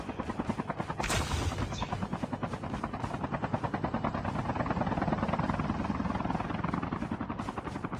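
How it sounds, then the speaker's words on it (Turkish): Helicopter in Call of Duty Mobile gameplay, a loud steady rotor chop with rapid rhythmic thumping throughout, plus a brief burst of gunfire early on. "Bir helikopter daha geldi."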